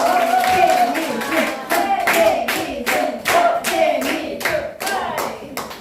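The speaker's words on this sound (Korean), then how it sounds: "큰 박수 맞춰주세요" An audience at a detox and healing camp event claps loudly and rhythmically in unison, close by, with a tonal voice or music sounding beneath the beat.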